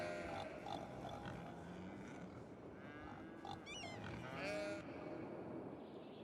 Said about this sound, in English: Those cattle and pigs are making a lot of noise there.